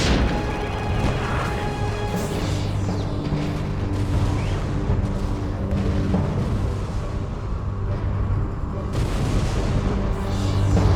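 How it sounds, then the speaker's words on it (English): Cannon fire in the tower-defense video game Defense Grid: The Awakening, a dense, continuous barrage of booms and crashes layered over a steady rumbling game soundscape with no clear pauses. "cannon fire."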